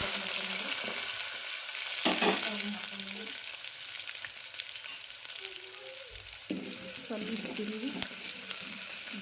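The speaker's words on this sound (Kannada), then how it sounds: "ಈಗ ಜೀರಿಗೆ ಚಟಪಟ ಅಂತ ಹಿಡಿಗಿತಾವ್ರಿ" Cumin and mustard seeds crackle in hot oil, a steady close sizzle broken by scattered sharp pops and a few louder bursts.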